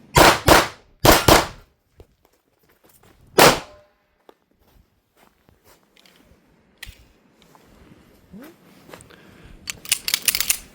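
Pistol shots from a Tisas 1911 chambered in 9mm: a quick pair of sharp, loud cracks, then a third shot a moment later, followed by a quiet stretch of faint handling noise and low talk.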